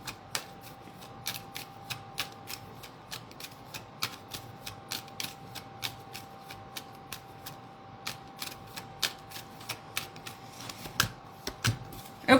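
Tarot cards shuffled for a reading make a long series of crisp, close snaps and flicks at a fairly regular pace, growing a little louder toward the end, with no talking.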